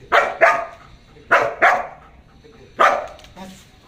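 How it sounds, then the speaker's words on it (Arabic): A trained dog barks on command, loud and close, giving five sharp barks mostly in quick pairs with short pauses between them. "هتبدأ تدي للكلب الامر، هو هيبدأ ان هو ينبح من غير ما يتحرك من جنبك"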